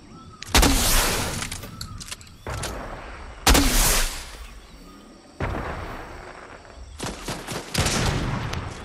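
Loud bursts of video game gunfire arrive in several separate volleys, sharp cracks and rapid fusillades with short gaps between them, heard close with no talk over them.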